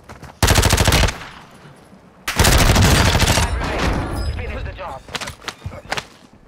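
Video game battle gunfire in two loud, close bursts of rapid automatic shots, the first about half a second long and the second longer, followed by scattered single shots, with voices talking in between.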